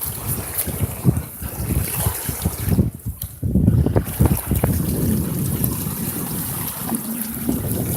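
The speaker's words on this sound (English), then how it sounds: "Oh, there goes the boat." A boat motors past on the water, its engine rumbling under gusty wind buffeting the microphone, with waves lapping nearby.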